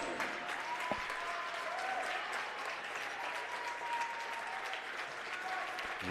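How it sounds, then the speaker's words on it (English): A crowd applauds steadily at a women's college basketball championship game, a sustained wash of clapping from a distance with a few voices mixed in. "Nice round of applause."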